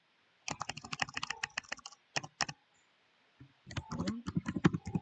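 Brisk keystrokes clatter on a computer keyboard in two bursts separated by a short pause, close and clear with no talking over them.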